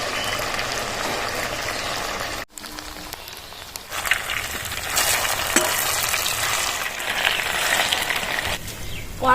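Battered sago pakoras sizzle and crackle in hot oil, a dense, steady frying hiss with a brief dropout early on, then a slightly fuller bubbling that continues to the end; no speech.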